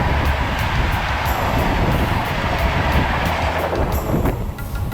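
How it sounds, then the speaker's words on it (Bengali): A South Eastern Railway local train rushes along in a loud, continuous rumble with wind roar and rattling, heard from on board as it passes a goods train. "একটা মালগাড়িকে টপকে গেলাম আমরা। পাশ দিয়ে একটা লোকাল বেরিয়ে গেল।"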